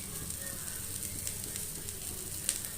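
Oil drizzled onto a ragi roti cooking on a hot pan brings a faint, steady sizzling hiss that holds evenly throughout, with one small crackle near the end.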